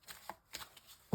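Oracle cards shuffled by hand for a love-themed card reading, a few soft papery riffles and slaps, close and brief.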